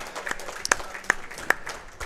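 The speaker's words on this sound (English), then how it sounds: "Let me hear a round of applause if you can hear us here." A small crowd at an evening football radio show applauds on request, a thin scattered patter of hands with a few sharp, louder individual claps standing out over a quiet room.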